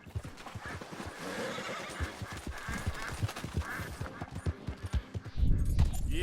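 Horse neighing and hooves clip-clopping at a gallop in Red Dead Redemption 2, with a steady run of hoofbeats, a whinny in the middle and a loud low rumble near the end.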